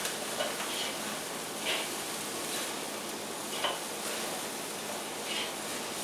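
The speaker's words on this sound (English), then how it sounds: "I'm just gonna let that fire kind of sizzle them a little bit" Burger patties sizzle over an open grill fire on a barbecue pit, a steady hissing crackle running throughout at moderate volume with a few brief louder pops and spits, and no talking.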